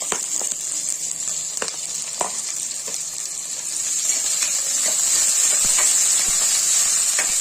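Onions frying in oil for a mutton kurma, a steady close sizzle and hiss that grows a little louder and denser partway through, with a few faint clicks and no talk.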